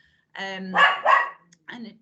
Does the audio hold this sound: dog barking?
yes